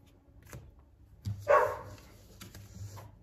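Dogs bark indoors, a few sharp barks spaced out, one louder burst standing out among fainter ones, with a quiet room in between.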